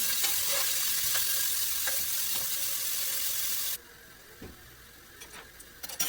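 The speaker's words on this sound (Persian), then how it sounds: "من نصف پیاز رو خلالی کردم، با کمی روغن سرخ میکنم" Thinly sliced half onion frying in a little oil in a pan gives a steady bright sizzle for several seconds. It then drops abruptly to quiet, with a few faint clinks and stirs near the end.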